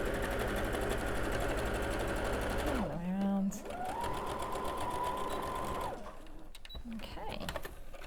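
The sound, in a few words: sewing machine stitching along a seam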